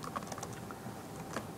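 Rapid keystrokes clatter on a computer keyboard as a simple C++ program is written, a close, steady run of light clicks with no voices.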